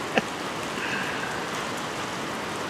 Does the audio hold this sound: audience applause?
no